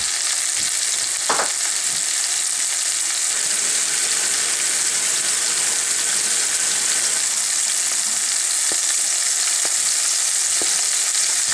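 Homemade battered onion rings bubbling in hot oil, a loud, constant close-up sizzle with a few sharp pops and clicks scattered through it and no voices.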